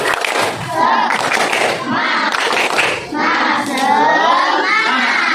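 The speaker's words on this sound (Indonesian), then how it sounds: "biar semangat kita tepuk semangat" Classroom group clapping chant led by a teacher during an Indonesian Islamic religious education lesson, rhythmic claps and children's voices chanting together in bursts, loud and close throughout.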